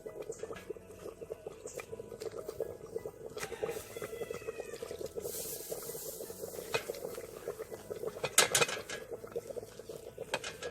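A spoon stirs a pound of cornmeal in a pot, giving a continuous soft wet scraping and patter with occasional light clinks of metal against the pot, steady and close.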